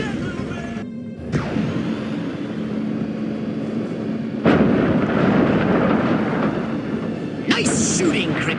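Loud, dense gunfire and crashing impacts from the video game Destroy All Humans! Reprobed, a continuous barrage with sharp sudden blasts layered over game sound and voices.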